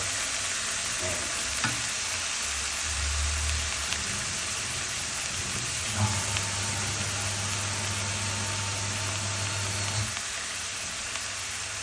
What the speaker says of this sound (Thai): ผัดให้ถั่วงอกมันสุกๆนิดนึง